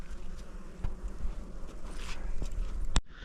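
A dense, steady buzz of many honeybees hums close by at an opened hive, with a few soft bumps and rustles and a brief sharp knock near the end.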